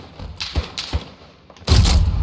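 Rocket blasts in Call of Duty Modern Warfare, a hardcore team deathmatch in Azhir Cave: a few close, heavy thuds spaced apart, then a louder sustained roaring burst at the end.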